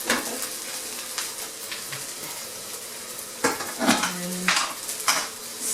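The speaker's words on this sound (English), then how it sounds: "stir a little bit more" Fried rice is stirred in a hot pan over a low sizzle, with a series of sharp scraping clatters of a utensil against the metal that grow busier toward the end.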